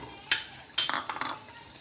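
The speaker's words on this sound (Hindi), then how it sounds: "चने डाल के तो इसको अच्छी तरह भूनूंगी।" Chickpeas and cooked mutton are stirred and scraped in a pressure cooker pot, giving a few quick bursts of scraping and clattering with a soft sizzle between them.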